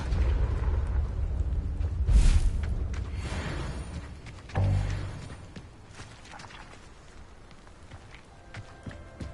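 A Confringo fire spell explosion in Hogwarts Legacy, with two deep booming blasts a couple of seconds apart among game action and ambient noise.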